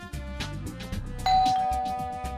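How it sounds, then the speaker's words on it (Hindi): A doorbell chimes once with a bright ding-dong tone that rings out and fades, heard over background music. "डोरबेल"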